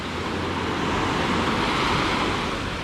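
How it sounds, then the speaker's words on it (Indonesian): Surf washing in at Senggigi Beach on Lombok, a steady unbroken roar of waves with some wind and faint road noise mixed in, no voices. "Ini adalah Pantai Senggigi."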